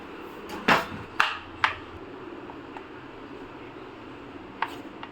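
Knife chopping a bar of Amul dark chocolate on a board, a few sharp separate cuts near the start and one more toward the end, over a steady low background hum.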